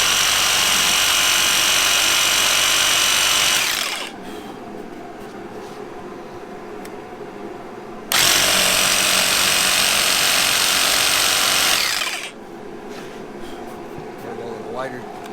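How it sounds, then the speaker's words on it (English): A small jigsaw cutting through a 2x4 board while building a sled, two loud bursts of buzzy cutting of about four seconds each, separated by quieter stretches of low background rumble. "Matt's gonna go with the little jigsaw approach here. He's gonna cut the 2x4."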